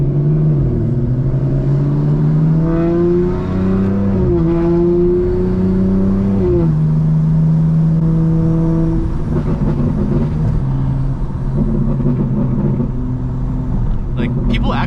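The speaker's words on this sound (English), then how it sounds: "these burbles are crazy" A custom-tuned BMW G82 M4 revs and lets off in a loud, close, sustained engine roar whose pitch rises and drops in several waves, ending with crackling exhaust burbles.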